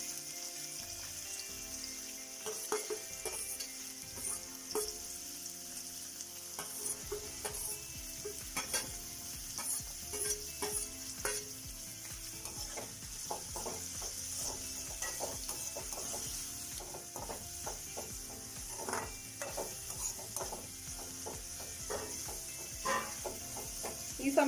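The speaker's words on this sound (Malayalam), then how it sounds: "അപ്പം നമുക്കിനി ബാക്കി ചേരുവകളെല്ലാം ഇതിലേക്കിട്ട് നല്ലതുപോലെ നല്ലൊരു ബ്രൗൺ കളറാകുന്നിടം വരെ" Onions and other ingredients for a ginger curry sautéing in a pan until brown, with a steady sizzle and constant clattering strokes of a spoon stirring against the metal.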